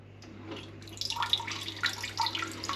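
A bidet in a Bali room sprays water once its valve is opened, a hissing, splashing burst that builds after a quiet start and carries on unevenly, close by with no talk.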